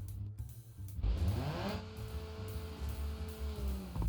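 A car with a sport exhaust in the video game BeamNG.drive revs up sharply, then settles into a loud, steady exhaust drone with a rising whine, close and continuous.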